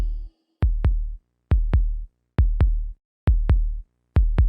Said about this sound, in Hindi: और अब मैं अपने दिल की धड़कन सुन सकती हूँ।